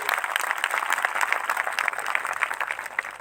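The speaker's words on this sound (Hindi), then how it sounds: "मैं चाहता हूं जोरदार ताली बजाकर प्रभु की स्तुति करें।" A congregation at a Christian revival meeting claps loudly in praise of God, with a fast, steady stream of hand claps running throughout at moderate distance.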